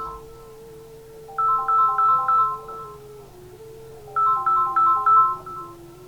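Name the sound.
mobile phone ringtone ringing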